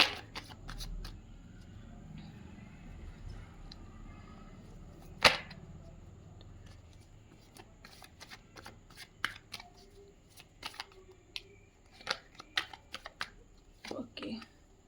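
Tarot cards being shuffled and handled at close range, with soft riffling, flicks and sharp taps that grow busier toward the end over quiet background.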